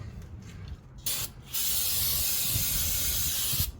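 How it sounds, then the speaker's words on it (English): Bursts of aerosol spray hiss on a greasy brake rotor of a 2011 Dodge Grand Caravan: a couple of short puffs, then a long steady close-up spray lasting a few seconds. "make sure you spray that off"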